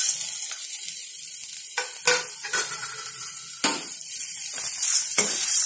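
Spices being stirred in hot oil in a pan, with a steady close sizzle and frying hiss under several sharper scrapes and stirring strokes.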